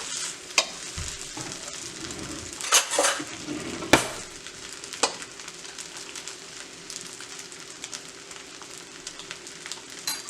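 Fried rice sizzles in a pan as a utensil chops and stirs it, giving a continuous frying hiss with sharp metallic scrapes and clinks scattered throughout, close and without speech.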